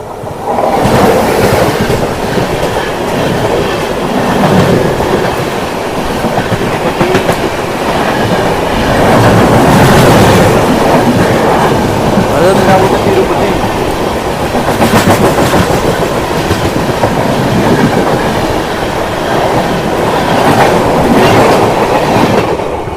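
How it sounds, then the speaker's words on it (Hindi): An AP Sampark Kranti Express thunders past close by, heard from aboard the Goa Express on a rainy Goa to Delhi run, with loud steady rumbling and rhythmic clickety-clack of wheels on rails lasting throughout. "कोई ट्रेन आ रही है सामने से"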